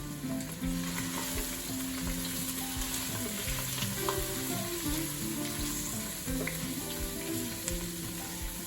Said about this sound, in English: We're just going to allow these to saute for a few minutes.